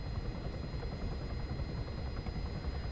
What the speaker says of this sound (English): So the helicopter may be invincible, but I'm not.